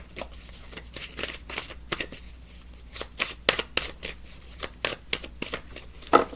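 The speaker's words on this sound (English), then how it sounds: "I'm going to shuffle these again" Tarot cards are shuffled by hand in a quiet room: a rapid series of crisp, close riffling bursts with short pauses between them.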